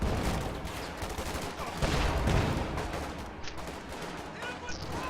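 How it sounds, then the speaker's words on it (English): Machine gun fire in a wargame match, rapid crackling bursts of gunfire with heavier booms, dense and continuous over noisy battle ambience with talk mixed in. "It's just 1 machine gun."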